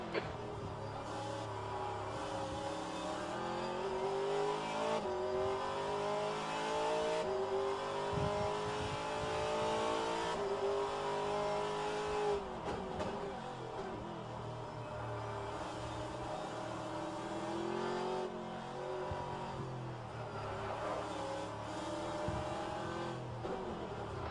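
Race car engines in the rFactor 2 sim racing game at Long Beach, a continuous near-field engine howl rising and falling through gear changes with downshift dips, alone and loud throughout.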